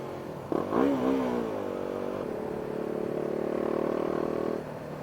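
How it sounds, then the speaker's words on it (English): A BMW G 310 R motorcycle engine with an aftermarket Akrapovic exhaust blips and revs up sharply, then settles into a steady, droning rasp from the loud exhaust before cutting back. "it does have this really annoying-ish Akrapovic exhaust"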